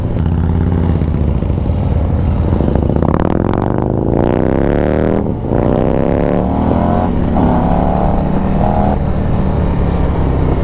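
A 2024 Harley-Davidson Street Glide with a 135 engine rumbles loudly while riding, its deep exhaust note climbing through rising revs and gear changes, steady and close with wind rush.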